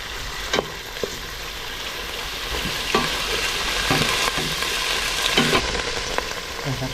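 Shrimp paste and sponge gourd sauté in a pan, giving a steady sizzle with scattered clicks of a utensil stirring, close and moderately loud with no talking.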